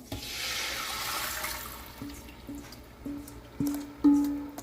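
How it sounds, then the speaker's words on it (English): Liquid is poured into a pot of chicken adobo with a close, rushing splash for about two seconds, followed by a few hollow knocks and clunks against the pot. "we are going to add all of our liquid to our pot"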